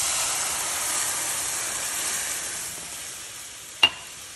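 A spoon stirs broccoli soup with chicken broth in a cooking pot, giving a steady close sizzling, bubbling hiss that fades slightly, ending with one sharp clink.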